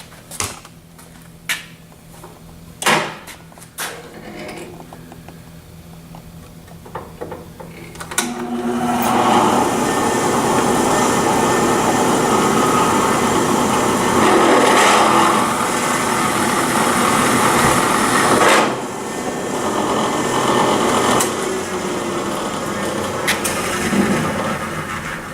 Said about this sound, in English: So I'm going to cut this hole next after I use the center drill.